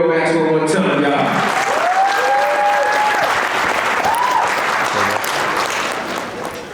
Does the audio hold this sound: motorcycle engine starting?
no